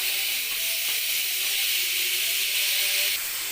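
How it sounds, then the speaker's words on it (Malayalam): Tomato dropped into hot masala for a Kerala-style crab curry, giving a steady, loud sizzling hiss that holds evenly throughout with no talking. "അപ്പോൾ നമുക്ക് ഇതിലേക്ക് തക്കാളി ഇട്ട് കൊടുക്കാം കേട്ടോ"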